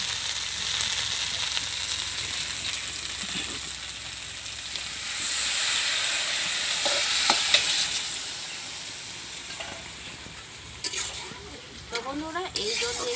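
Chicken curry with potatoes sizzling in oil in a pan, a steady frying hiss that swells as water goes in, with stirring scrapes near the end.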